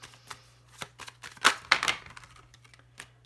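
A deck of tarot cards being cut by hand: soft papery slides and snaps, with two louder riffling sounds near the middle, quiet and close, with no talking.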